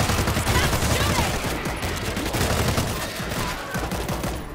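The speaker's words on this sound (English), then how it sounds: "Stop shooting!" Dense, continuous gunfire from the video game World War Z, rapid overlapping shots and automatic bursts at high volume throughout, with no pauses.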